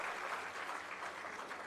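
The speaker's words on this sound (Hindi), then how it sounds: "जोरदार तालियों से स्वागत।" An audience at a Delhi government school inauguration gives a steady round of clapping in welcome, fairly soft and even throughout, with no voices over it.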